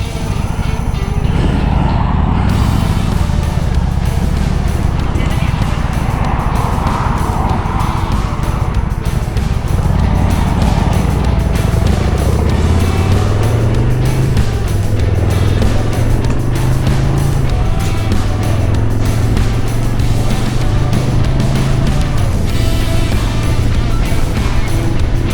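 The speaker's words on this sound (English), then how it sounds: "6-cylinder engine they have on that bike." Honda Goldwing motorcycle with a six-cylinder engine, heard as a steady loud engine drone throughout, with low rumble rising in pitch through the later part as it revs or accelerates.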